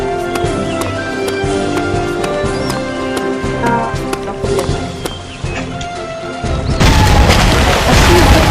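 Video game dynamite explodes in a loud, booming burst that rises out of a busy, constant wash of game sounds and music near the end.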